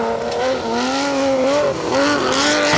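A rally car at the R.A.C Rally drives past on a forest stage, its engine note rising and falling in pitch through gear changes, loud and close, with no talking.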